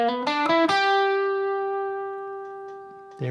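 Electric guitar lead solo aimed at chord tones: a few quick picked notes climb to one long sustained tone that rings out and slowly fades, with processed effects, then a fresh attack at the end.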